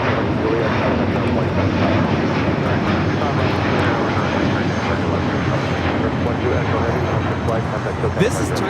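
Turkish Airlines Airbus A350-900 taking off at Los Angeles airport, a loud, sustained jet engine roar that stays strong throughout, with a brief voice toward the end.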